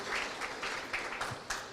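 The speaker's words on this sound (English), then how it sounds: "Let's give him a better clap." Applause from a modest audience at a Nation Media Group event in Kenya, a faint, steady patter of clapping with a few louder bursts, heard from a distance.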